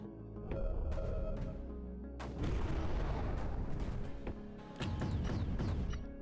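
Mortars in the Creeper World 4 video game firing: repeated heavy booms with sharp attacks, several launches overlapping in a loud, rumbling volley against the game's background.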